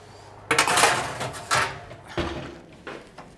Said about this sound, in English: I'm going to put the rest of the cauliflower back in the oven just for a few more minutes